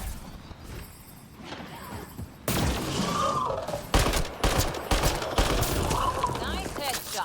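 Rapid gunfire and thudding impacts in a video game on Insanity difficulty, starting quieter then turning into a loud, dense burst of shots after a few seconds, with a voice speaking over part of it.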